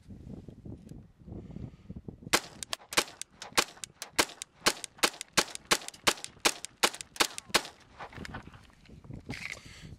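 Thunderbolt ammunition fired in a quick semi-automatic string of roughly fifteen sharp gunshots, evenly spaced and loud, with quiet before and after.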